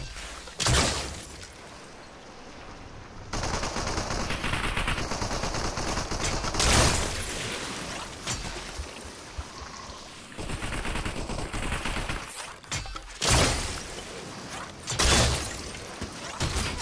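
Gunfire in Fortnite Arena Duos: repeated sharp shotgun-like blasts hit at irregular intervals over a steady bed of game noise. They are loud and close, with no clear voice.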